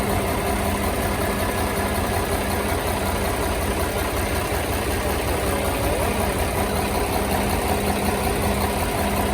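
A Hino Series 700 concrete mixer truck's P11C 300 hp diesel engine idles steadily up close, a constant rumbling drone with a faint knocking texture and no talking.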